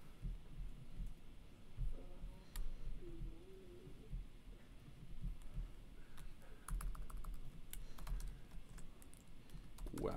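Typing on a computer keyboard during a Docker demo: scattered, quiet key clicks come in irregular bursts against a faint background hum, with no talking.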